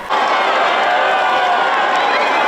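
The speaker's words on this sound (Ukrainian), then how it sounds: "Натовп вигукує Віваль Папа, а фоном лунає дзвін собору святого Петра" A dense crowd in St. Peter's Square at the Vatican cheers and chants for the newly elected Pope Leo XIV riding past in the popemobile, a loud continuous roar of many voices.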